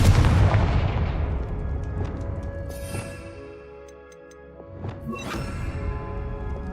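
A fiery blast from the Confringo spell in Hogwarts Legacy opens with a loud booming burst that rumbles and fades, followed by lighter crackling and a second smaller impact.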